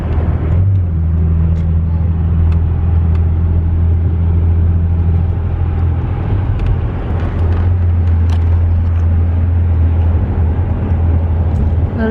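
Steady low road rumble and engine drone from inside a car moving through highway traffic, continuous and fairly loud throughout with no talk.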